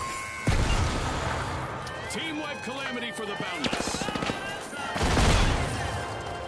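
Grenade launcher explosions in the video game The Finals hit as heavy, booming blasts, with one near the start and another near the end, amid clattering gunfire and crashing debris while a player talks over the action.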